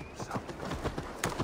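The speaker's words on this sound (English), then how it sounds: "Just ride out on a horse." Horse hooves clip-clop in a quick, steady rhythm while riding in the video game Assassin's Creed Valhalla, at moderate volume over a constant game background.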